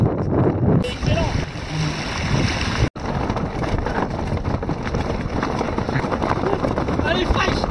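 Evasion 28 sailboat motoring slowly with its mainsail and genoa lowered, a steady low engine drone mixed with wind buffeting the microphone and water rushing against the hull, continuous and fairly loud, with a person talking over it.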